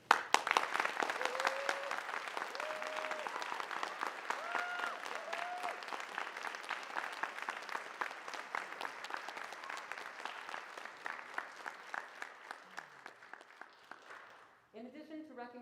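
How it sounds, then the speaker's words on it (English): A theater audience at a Thespian troupe induction ceremony applauds steadily for about fourteen seconds, with a few faint voices mixed into the clapping before it fades and a brief noise closes the clip. "let's give him a round of applause anyway."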